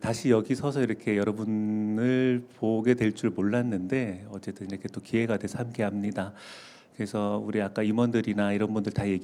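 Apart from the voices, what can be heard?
No everyday noises stand out.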